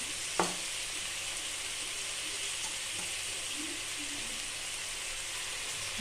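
Pepper chicken sautéed in a pan with salt and turmeric, a faint continuous hiss of frying with one brief clack near the start and light stirring.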